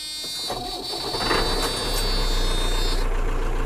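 An HGV truck engine cranks and turns over, then settles into a steady low diesel rumble that builds and holds at close range, with a thin high whine running above it.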